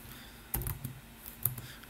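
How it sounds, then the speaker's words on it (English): Fingers typing a password on a computer keyboard, a faint short run of soft key clicks with two slightly louder taps, over quiet room hiss. "type the password"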